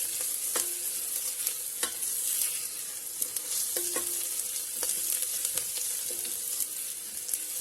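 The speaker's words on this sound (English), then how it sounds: "I'm going to mix it and cook it a little." Onion masala with turmeric fries in a pan while a spoon stirs it, a constant close sizzle broken by irregular sharp scrapes and clinks of the utensil against the metal.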